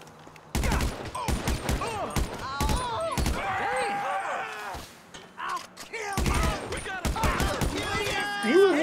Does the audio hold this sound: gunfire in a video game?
yes